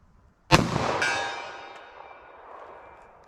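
A .45 ACP pistol fires Federal Punch rounds at a steel target, giving a sharp loud crack with a bright metallic ring that hangs and slowly fades, followed by a second clang and a faint late tick.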